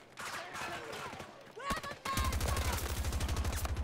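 Rapid assault rifle fire from a Battlefield 2042 match, a dense run of evenly spaced close shots taking over the second half after scattered distant combat noise and a brief burst.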